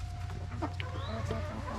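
Hens clucking close by, with some broody birds among them: soft, overlapping murmured clucks and short calls over a low background rumble.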